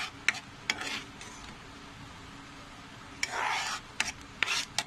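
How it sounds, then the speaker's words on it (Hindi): A spoon scrapes and stirs a boiling mango glaze of melted sugar in a pan, with soft, irregular rasping strokes in short bursts over a faint, quiet background. "इसको चलाते रहेंगे।"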